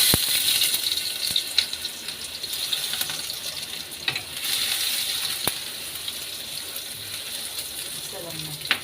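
Garlic frying in a pan for chicken afritada gives a steady, close hiss and sizzle, with a few sharp clinks of a utensil against the pan scattered through it.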